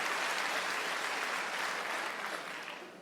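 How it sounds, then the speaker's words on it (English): Scattered, half-hearted applause from a comedy show audience, a thin patter of clapping that stays faint and fades slightly toward the end. "Some kind of half-hearted, weak, feeble clap."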